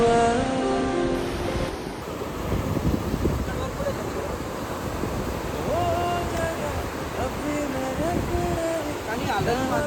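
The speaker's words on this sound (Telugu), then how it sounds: "అలల ఫ్లో మాత్రం ఓకే, బాగానే ఉంది." Sea waves washing onto the beach at Vizag, a steady broad rush of surf mixed with wind buffeting the microphone, with people talking over it.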